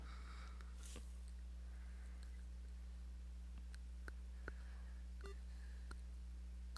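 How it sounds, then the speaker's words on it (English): A game timer is started during a Star Trek: Attack Wing tournament, heard as a run of faint, short electronic beeps and clicks spaced irregularly over a steady low hum, quiet and without voices. "Right, start the timer."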